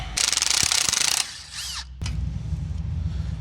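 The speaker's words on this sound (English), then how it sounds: "it's a 9/16 socket to take off DB35 fasteners for the calipers" Power tool with a ratcheting socket on boat trailer caliper fasteners, a loud buzzing whirr for about a second, then a brief whine, a sharp clack and a lower rattling hum, close by.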